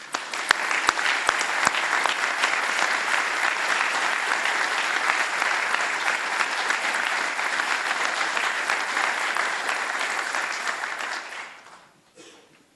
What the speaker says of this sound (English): I'd like to give a round of applause to Fanchen and Julian